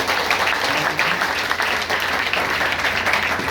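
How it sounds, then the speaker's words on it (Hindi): A meeting audience bursts into loud, steady applause for first-time attendees, dense clapping from a large crowd filling the room without a break. "तो इनके लिए तो एक जोरदार तालियां बनती है।"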